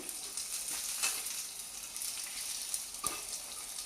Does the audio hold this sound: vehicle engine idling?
no